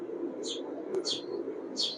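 Pakistani highflyer pigeons call in a few short, faint bursts spread over a steady low background hum, near but quiet, with no talk.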